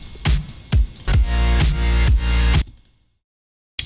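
An electronic music track plays loud and alone with punchy repeating beats and dense harmonic layers for about two and a half seconds, then cuts off into near silence.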